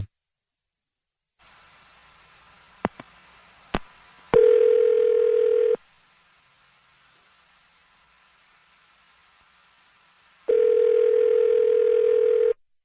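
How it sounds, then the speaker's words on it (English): A telephone dial tone hums steadily in two long bursts while a phone number is being called, broken up by a few sharp clicks and faint hiss between them, no voices. "I'm going to dial his phone number right now."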